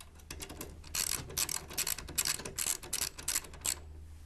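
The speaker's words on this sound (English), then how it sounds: "insert the washes onto the screw threads, the bolts, tighten down with your 10mm wrench" Ratcheting clicks from a 10mm socket wrench tightening bolts with washers on threads, coming in short repeated bursts of quick pawl clicks, close and fairly quiet, with no talk.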